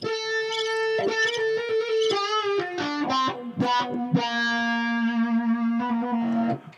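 An electric guitar with heavy distortion plays sustained notes and short melodic runs, the tone thick and fuzzy, played alone at moderate volume.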